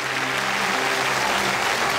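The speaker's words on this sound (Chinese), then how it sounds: "你的爷爷，我们把掌声送给他。" A studio audience on a Chinese television stage show gives a full, sustained round of applause for a grandfather who plants trees, dense and even throughout with no talking.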